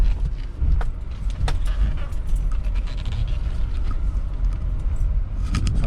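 A car drives after its tires were changed, a steady low engine and road rumble heard from inside the cabin, close and continuous, with light rattles and clicks on top.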